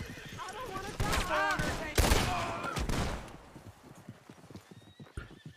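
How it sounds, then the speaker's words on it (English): Gunfire bursts ring out in the video game Red Dead Redemption 2 among horse hooves clip-clopping and a neighing horse, with game voices talking in the middle of the clip. "Shoot him right in that throat."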